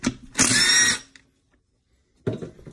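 Power tool running on 12mm transmission case bolts of a 2012-2015 Honda Civic Si K24Z7, two short close whirring bursts separated by a brief pause.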